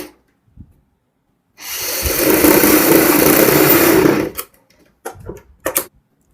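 A sewing machine stitching a folded fabric collar for a child's fancy dress, running at an even whir for about two and a half seconds, then a few short bursts of stitching.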